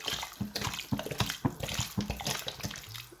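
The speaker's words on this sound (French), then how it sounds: "Donc là, on met une bouteille d'eau chaude." Hot water poured from a bottle into an 8-litre cooking pot for Ramadan soup, a splashing, gurgling pour with uneven bursts and glugs, close and moderately loud, with no talk.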